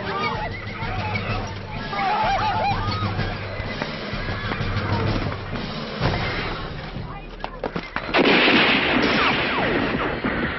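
Gunshots ring out in a battle scene from a Tianshan war drama, a few sharp cracks mixed with neighing horses and shouting voices.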